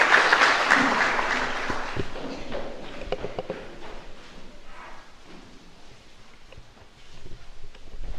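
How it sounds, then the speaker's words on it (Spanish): A chapel congregation applauds during a novena in honor of Saint Aloysius Gonzaga, loud dense clapping at first that thins into scattered, fading claps and murmuring room noise. "Fuerte aplauso entonces para nuestra comunidad."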